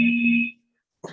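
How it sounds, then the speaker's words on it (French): A mobile phone rings nearby during a lab training session, a steady electronic tone for about half a second, then a brief burst of voice after a pause. "est-ce que tu peux couper le téléphone portable à côté"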